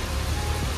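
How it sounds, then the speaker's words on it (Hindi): Heavy rain pours down steadily during a downpour in Kondapur, a dense, close, continuous wash of noise with no breaks. "सब जगह तेज बारिश हो रही है"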